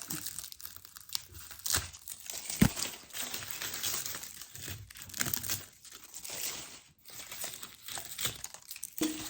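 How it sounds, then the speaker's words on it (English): Amaryllis foliage being cut back and cleaned up by hand, close crinkling and rustling of dry leaves with brisk snips and crunches, steady throughout. "I am simply going to cut all the foliage back and clean these up a bit"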